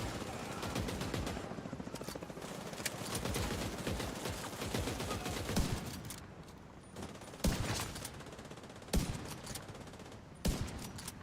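Gunfire in The Division 2 rattles in dense, rapid bursts throughout, with a few sharper, louder shots standing out near the end.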